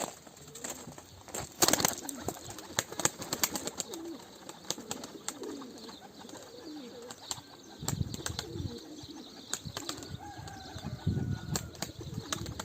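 Pigeon wings flap in quick bursts near and far, with soft cooing and rustling throughout.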